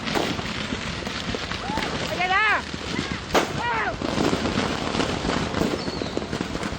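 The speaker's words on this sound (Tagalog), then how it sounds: "nang magkaroon ng sunod-sunod na pagsabog ng mga paputok sa baba" A rapid string of sharp firecracker bangs crackles in succession as fireworks stores explode, with voices shouting in the background.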